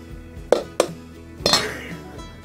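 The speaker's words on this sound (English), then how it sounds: "I'm going to break 1 egg in there." An egg is tapped twice sharply against the rim of a bowl holding a cup of peanut butter, then cracked open with a brief clatter and a softer slide into the bowl, close and clear.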